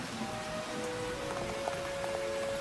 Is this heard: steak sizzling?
no